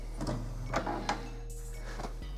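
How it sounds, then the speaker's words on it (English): An HP Envy 5530 printer checks a newly installed ink cartridge, making short mechanical whirs and clicks in several bursts against a low steady hum. "your printer will take a quick look at the cartridge. You hear it whirring a little bit"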